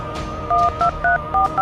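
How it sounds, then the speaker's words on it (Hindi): A cartoon-style telephone being dialed: five short two-tone keypad beeps in a quick, even sequence over a low background hum. "तभी गुल्ली बाबा को फोन लगाता है।"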